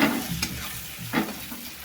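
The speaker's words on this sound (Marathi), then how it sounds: "परतून घेऊया छान. नंतर ही फुटाण्याची डाळ होती ती मी घालते याच्यामध्ये." Chana dal sautéed with turmeric in a pan: two quick scraping stirs over a low, steady sizzle.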